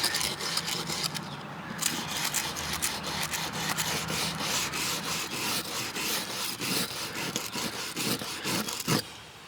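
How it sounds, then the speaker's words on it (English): A scrubbing brush works hard down the cracks of a weathered wooden deck, making a loud, close, continuous rasping scrub with quick back-and-forth strokes and no talk. "I'm just brushing down in the crack there."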